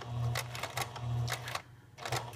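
A sewing machine stitches a fabric envelope in quick repeated bursts of mechanical clatter, each run of stitching separated by short pauses, with a steady motor hum underneath.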